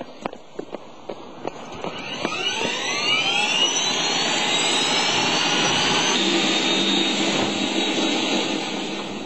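Medical emergency helicopter from Bra-sur-Lienne spools up, its turbine whine rising from a few sharp clicks into a loud, steady roar of engine and rotor close by, with no voices.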